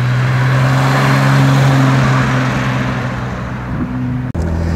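A 1967 Jaguar E-Type 4.2 Roadster engine idles steadily and loud up close, a deep even hum that eases slightly near the end and is broken by a brief sharp click.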